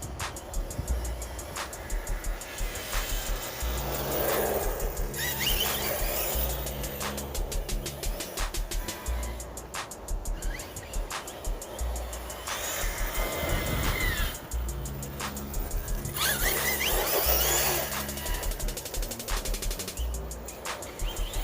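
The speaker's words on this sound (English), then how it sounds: "Arrma trucks have the best sound to me when it comes to these RC cars." An Arrma Infraction RC monster truck drives nearby, its electric motor whining up and down in repeated bursts as it accelerates and slows, with tire and gravel noise in between, moderately loud against outdoor background.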